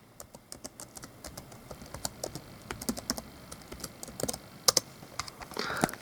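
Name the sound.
typing a password on a laptop keyboard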